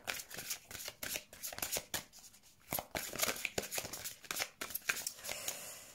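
Oracle cards being shuffled by hand, a busy run of crisp riffling and slapping strokes that come in quick bursts with short pauses, close up and moderately loud, with no talking.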